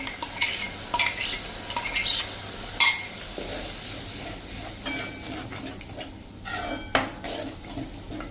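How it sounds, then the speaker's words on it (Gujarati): Yogurt being stirred into an eggplant and potato curry in a pan over medium flame, with repeated close scraping and clinking of a spoon against the pan over a soft background sizzle, in irregular strokes throughout. "દહીંને આપણે આ રીતે ચલાવતા જઈશું, નહીંતર ફાટી જવાનો ડર રહેશે"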